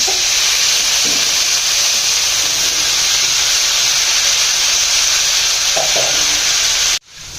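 Spring onions and spices sizzling loudly in a pan, a strong steady hiss with a few light stirring knocks, close up, cutting off abruptly near the end, no speech.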